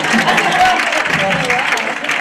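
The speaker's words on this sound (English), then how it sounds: "you can clap your hands" Clapping from an audience at a youth tech expo mixes with voices talking over it, a brief burst of applause heard close and fairly loud.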